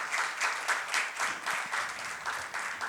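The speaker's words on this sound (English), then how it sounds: "Please join us in welcoming all our panelists with a round of applause." Audience applause at a panel discussion on advertising, steady sustained clapping from a crowd of moderate size that carries on throughout without any voices.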